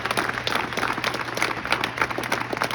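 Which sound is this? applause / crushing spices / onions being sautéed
applause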